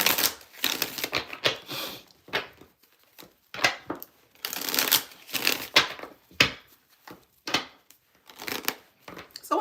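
A deck of cards is shuffled for a reading. Dense bursts of rapid riffling and flicking come close and fairly loud, broken by short pauses, with no voice.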